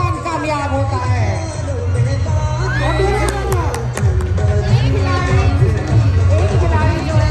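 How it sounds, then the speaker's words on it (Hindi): Spectators at a horse and cattle show cheer and applaud a rider, a loud sustained wave of crowd noise with whoops and shouting, under an announcer's voice over a loudspeaker. "बहुत तालियां इनके लिए।"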